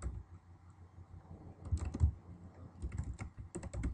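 Typing on a computer keyboard while entering an address into a word processor, a quiet run of irregular clicking keystrokes that clusters into brief bursts, close and alone without speech.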